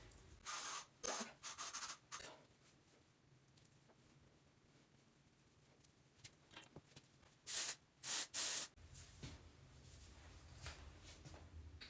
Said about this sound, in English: what I do is just go in with the hairspray. This is the Chi.